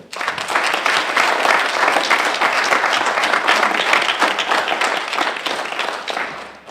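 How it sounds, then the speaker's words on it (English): Sustained audience applause at a Veterans Treatment Court fundraiser check ceremony, dense and loud clapping from a large crowd lasting several seconds with no talk over it. "I'd like to give a round of applause for everybody who's associated with the Veterans Court"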